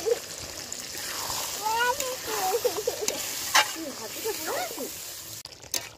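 Chicken and potatoes fry with green chillies, coriander leaves and a little water in a pan, cooked without turmeric. A steady close sizzle with stirring scrapes and splatters continues while someone talks over it.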